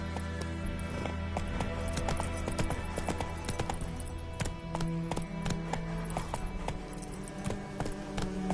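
Roach the horse gallops in The Witcher 3, a steady run of clip-clop hoofbeats over a busy game soundscape with music-like tones underneath.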